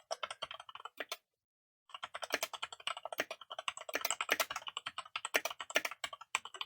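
Rapid typing on a computer keyboard, a dense run of close, crisp keystrokes that breaks off for about a second before resuming at the same quick, uneven rhythm.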